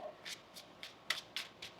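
Tarot cards being shuffled by hand, six or so short crisp riffling bursts in an uneven rhythm, close and fairly quiet with no talking.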